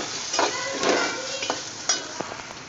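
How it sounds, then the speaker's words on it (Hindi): Tomatoes with turmeric and salt fry in a pan while being stirred, a close sizzle under a few quick scraping and clinking strokes of the spoon, brief and without speech. "देखो मेरा टमाटर भुन चुका है"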